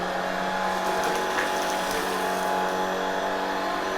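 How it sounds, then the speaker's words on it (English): Shark cordless vacuum cleaner running on its low setting, a steady close motor whine and airflow hum that holds evenly throughout with no talking. "this is just on low, so I'm not even on high when I'm vacuuming her right now."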